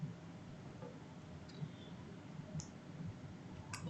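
A computer mouse clicking: a few sparse, faint, sharp clicks spaced out over a quiet, low background hum, with nobody speaking.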